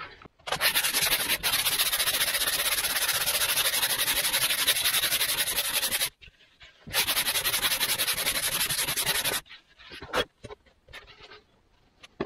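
Sanding the trailing edge of a Mirus 25 electric model aircraft wing, close and steady rasping strokes in two long runs separated by a brief pause, then a few short scrapes.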